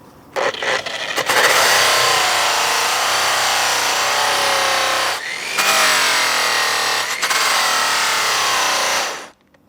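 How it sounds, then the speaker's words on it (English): A polishing buff being raked clean ahead of polishing a forged wheel makes a loud, steady broadband rasping scrape that runs for several seconds, breaks off briefly, then resumes before ending cleanly, with no voices. "Before I do this, I like to really clean this buff out."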